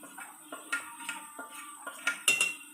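Spices such as turmeric, garam masala and red chili powder being stirred into a cooked masala paste for a prawn curry, heard as a run of close metallic clinks and scrapes of a spoon against the pan.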